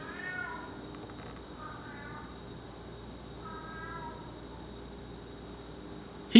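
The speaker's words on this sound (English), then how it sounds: "My cat already started screaming." Pet cat meowing indoors: three separate drawn-out meows spaced a couple of seconds apart, fairly soft and slightly distant over a quiet background, followed by a sudden thump at the end.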